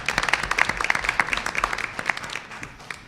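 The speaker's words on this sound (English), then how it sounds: "Let's give them a round of applause." Applause breaks out at a board of education meeting, a room full of people clapping briskly for a few seconds before it thins and fades.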